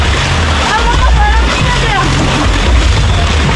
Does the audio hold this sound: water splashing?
yes